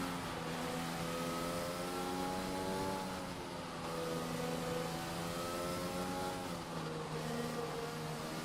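An F1 2020 race car, a Mercedes, runs on the wet Japanese GP track in the racing game, its engine droning steadily with shifting tonal pitch, rising and settling as the car is distant, with no talk over it.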